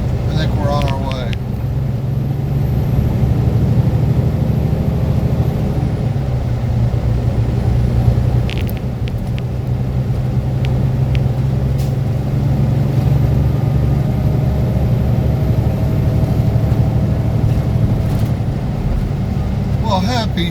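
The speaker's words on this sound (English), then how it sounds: "Let's just look at all the traffic up here." Busy Chicago street traffic heard from inside a pickup truck, with a steady low engine and road rumble running throughout and occasional brief higher noises, while a person talks over it.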